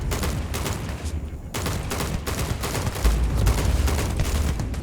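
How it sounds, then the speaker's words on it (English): Rapid automatic weapon fire in the space game Starfield, loud and continuous with a quick stutter of shots, a brief pause near the middle, then heavy booming impacts toward the end. "It's like a machine gun."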